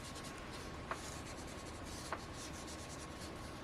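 A Tombow marker rubs softly across journal paper in a quiet, close, continuous scratchy stroke, with two faint taps partway through.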